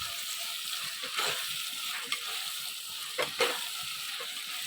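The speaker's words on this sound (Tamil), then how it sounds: "அதனால இன்னும் ஒரு 5 மினிட்ஸ் நம்ம நல்லா கிளறிக்கணும்." Tomatoes and onions sautéing in a pan, a steady frying hiss broken by a few louder scrapes and stirs from a utensil, fairly quiet and close, with no one speaking.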